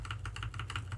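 Rapid keystrokes on a computer keyboard during a Photoshop layer-mask session, about seven quick clicks in one second, close and fairly quiet over a low steady hum, with no talk.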